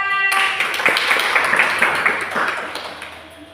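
Students in a classroom clap their hands together in a brief burst of close, fairly loud applause that tapers away over a few seconds, with a ringing tone at the start and a little speech mixed in.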